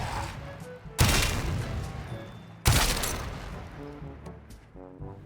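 Sepulcrum gun shots and explosions in the Warframe video game, with two sharp, heavy blasts about two seconds apart, each followed by a rumbling tail, amid a busy background of game effects.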